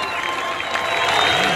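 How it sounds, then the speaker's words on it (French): A large outdoor crowd at a political rally applauds and cheers for judge Corneille Wasenda, a dense continuous wash of clapping and shouting with a voice audible in the mix. "Applaudissez pour le juge Corneille Wasenda."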